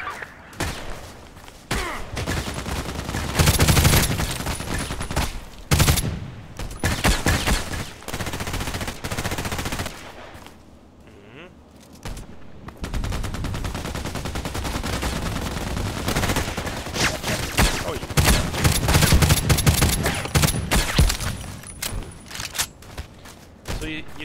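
Rapid bursts of HK G36C rifle fire in the shooter game Contract Wars, loud and close in repeated strings with short pauses, talk heard intermittently between shots.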